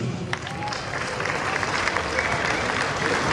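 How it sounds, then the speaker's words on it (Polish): Crowd applause at an outdoor charity streetball event in Poland, a steady wash of clapping that swells slightly and holds, with faint voices mixed in. "Także wielkie brawa dla tych ludzi"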